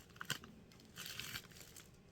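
Plastic and wax paper wrapping being pulled off a Frost Cutlery Copperhead knife, with soft close crinkling and a few sharper tearing rustles, faint and alone.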